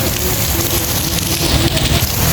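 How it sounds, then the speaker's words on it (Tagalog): Heavy rain pours steadily onto a surface, a loud dense patter filling the air without pause. "Umulan, umulan."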